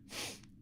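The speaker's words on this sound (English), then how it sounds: "I don't know why I got a cough now" A single short, breathy cough, close and fairly quiet, with no talking around it.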